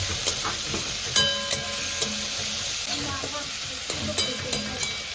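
Chopped green chilli sautéing in a pan with salt, giving a steady close sizzle with occasional stirring clinks throughout.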